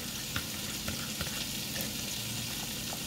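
A honey garlic glaze with brown sugar is stirred in a hot pan, giving a constant close sizzle with soft scraping strokes and small clicks of the utensil, and no voices.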